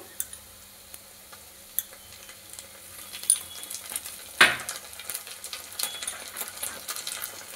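Ginger paste frying in a pan for a Bengali chicken dish gives a light, steady sizzle with scattered ticks and clinks and one sharp scrape of a utensil midway.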